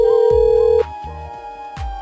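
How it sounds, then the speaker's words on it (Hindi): A telephone rings in a domestic scene, a loud steady electronic ring tone that cuts off partway, followed by quieter background sounds with no talking. "अरे किसका फोन आ गया?"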